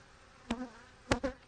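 Package honey bees buzz during a hive inspection: a few short, close passes of droning wingbeats rise and fade against a quiet background.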